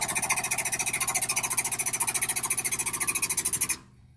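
A hydraulic pump driving a bead breaker cylinder to about 2,500 pounds of clamp pressure gives a loud, rapid mechanical pulsing that chugs evenly for several seconds, then cuts off abruptly into near silence.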